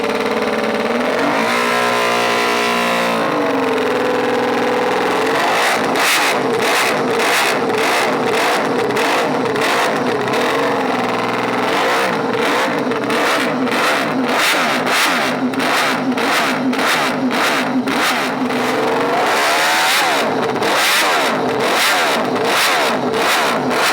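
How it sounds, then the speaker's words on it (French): A five-cylinder motorcycle engine, cut open for display, idles and then revs repeatedly in quick rising and falling bursts, loud and close with no talk. "allez c'est parti sur le 5 cylindres"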